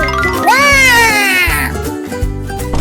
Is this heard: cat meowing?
yes